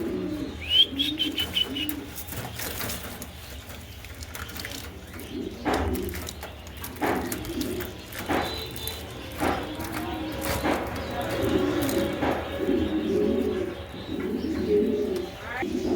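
Male pigeons coo in repeated low, rolling phrases close by, with some chirps and voices in the background.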